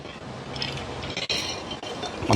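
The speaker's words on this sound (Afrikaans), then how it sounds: "Ek net 'n slukkie water vat." A water bottle clinks and taps a few times as someone takes a sip, short glassy knocks close by with faint handling rustle and no talking.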